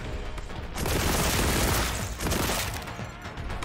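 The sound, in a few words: gunfire in the video game Warhammer 40,000: Boltgun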